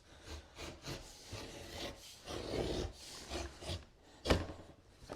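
A knife drawn along a clamped straight edge, cutting through thin wood veneer, gives soft, uneven scraping and rasping strokes up close, with a sharper scratch near the end and no talking.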